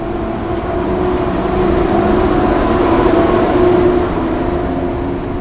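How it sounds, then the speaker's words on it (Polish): A train to Kielce departs from platform 9 at Warszawa Zachodnia in the evening, rumbling steadily nearby, a dense low roar with a faint tonal hum that swells slightly in the middle, with no voices. "I rusza pociąg do Kielc."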